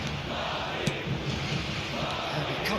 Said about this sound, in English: the crowd have tried to spark some excitement